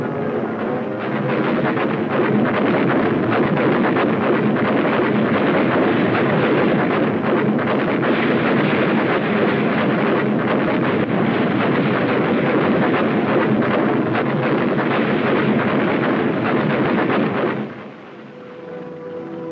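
US Navy destroyer guns in shore bombardment at point-blank range off a beach, heard as a continuous loud roaring rumble of blasts and wind for most of the stretch, ending abruptly into a quieter hiss near the end.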